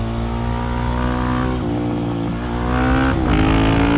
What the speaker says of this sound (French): dès qu'on passe la 3, ça regaze